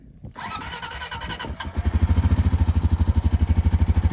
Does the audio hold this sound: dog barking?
no